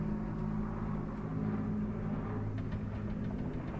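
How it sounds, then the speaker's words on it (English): Airplanes flying overhead, a continuous low droning engine rumble that holds steady throughout, fairly distant and without any talk. "Listen to the planes going by."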